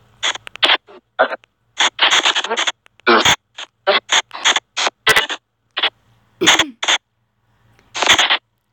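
The Paralus2 spirit communication phone app puts out choppy bursts of static-like white noise, with rapid irregular fragments broken by short gaps, fairly loud and close.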